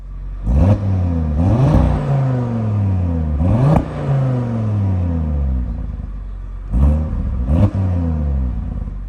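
The 2.5-liter five-cylinder engine of an Audi RS3 revs hard several times, each sharp rise in pitch dropping back to a throbbing idle, loud and close with no voices over it.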